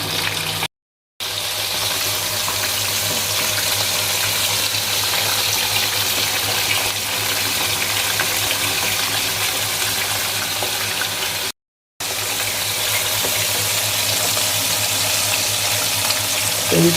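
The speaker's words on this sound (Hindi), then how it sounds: "फिर दोबारा इनको फ्राई के लिए डालेंगे" Korean fried chicken pieces sizzle in hot oil during a second fry, a dense, steady crackling hiss heard close and loud throughout, broken by two brief silent gaps.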